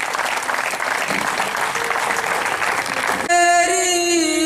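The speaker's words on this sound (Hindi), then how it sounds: "सभी लोग तालियों से जोरदार हार्दिक अभिनंदन।" Applause at a college freshers' party: steady, dense clapping from a crowd lasts about three seconds, then cuts abruptly into music.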